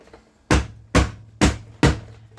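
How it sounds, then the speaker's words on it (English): A hammer taps a plastic bucket lid into place, four evenly spaced hollow knocks about half a second apart, close and loud with no talking. "That's why we got this hammer. We use this for putting bucket lids on."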